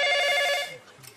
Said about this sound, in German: du wachst vom Läuten des Telefons auf